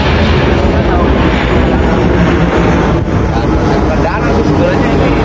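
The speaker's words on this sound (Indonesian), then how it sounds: "di mana-mana ada pesawat ya kan" An airplane passes over a mangrove estuary, its engine roar loud and steady throughout, filling the whole stretch with dense rumbling noise.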